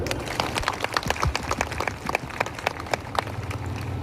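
An audience at a Hindu gathering in Seshadri Nagar claps together in a dense, steady patter of applause that holds for several seconds.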